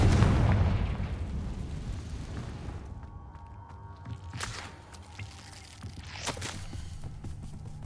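A Confringo blasting spell explodes in the Hogwarts Legacy video game inside Spinner's Cavern: a loud, booming blast opens and decays over a couple of seconds, followed by quieter game ambience with a few sharp bursts.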